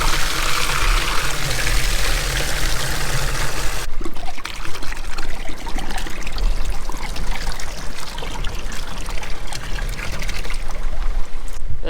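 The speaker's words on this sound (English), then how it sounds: "And then hopefully just like that we've got a feeder full of milk." Milk pours from an opened tap into a calf feeder, a loud steady gushing stream that shifts partway through to a lighter, trickling flow as the feeder fills.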